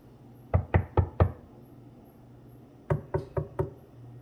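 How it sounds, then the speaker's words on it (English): Knuckles rap on a whole watermelon at a grocery store, giving a hollow knock: a quick run of four close taps, a pause, then four more. "It sounds like a hollow kind of knock"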